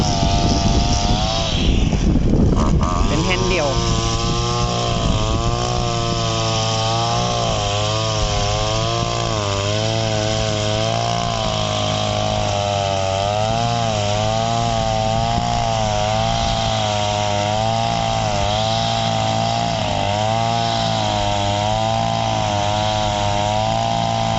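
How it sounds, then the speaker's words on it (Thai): A small Kyoritsu SRM200L brush cutter with a double-grip throttle runs steadily for the whole stretch, its two-stroke engine droning loud and close, the pitch wavering as the throttle is worked after a brief rough start. "ตัวนี้เป็น SRM 200L นะครับ ก็คือคันเร่งเป็นลักษณะกำกำเบิ้ลนะครับ"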